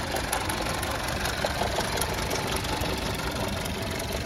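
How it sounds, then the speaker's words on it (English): A 2012 Buick LaCrosse engine idles steadily close by, a constant rumble with a faint irregular knock running through it. "there is that idling noise"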